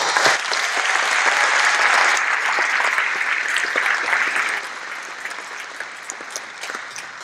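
A crowd at the Bernice McNaughton High School 2022 graduation ceremony gives the graduating class steady, full applause that eases to a lighter patter toward the end.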